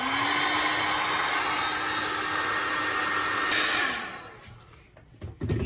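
A heat gun heating a part of a Renault Clio blows a steady, loud, close whoosh, then shuts off and winds down after about four seconds, leaving faint handling knocks.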